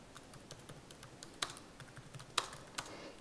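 Typing on a computer keyboard, a quiet scatter of light key taps with a few sharper, louder strokes standing out, close by with no talking.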